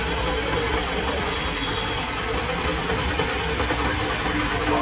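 Honda SP 125 BS6 fuel-injected motorcycle engine running at a steady low idle, a constant close rumble with light knocking texture and no talking.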